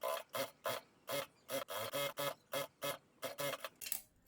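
A sewing machine stitches along the edge of ladies' pants in about a dozen short, even bursts of whirring, close and clear, with brief pauses between runs and no talk.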